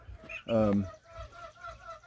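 Young farm-raised chicks, recently hatched and moved outdoors from a brooder house, give soft clucks and one louder, drawn-out call near the middle, close by with faint background sound.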